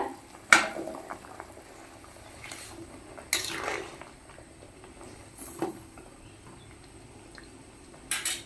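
Drumstick and potato curry cooking in a pan, a faint steady simmer with a few sharp clinks of a utensil against the pot.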